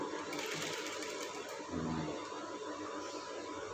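Sewing machine stitching a Shanghai collar onto brocade fabric, a steady continuous motor whir with a brief change in pitch partway through, running alone at close range.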